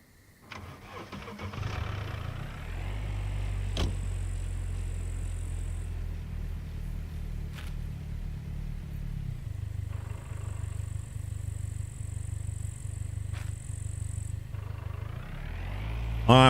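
A car engine in the video game SCUM cranks and catches, then settles into a low steady idle rumble, with a few faint clicks and thumps over it.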